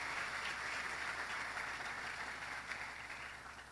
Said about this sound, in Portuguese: Celebra o Senhor também com aplausos pelas pessoas que nos acompanham pelas redes sociais.